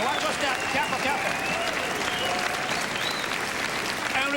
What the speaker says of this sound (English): Give up big clapping.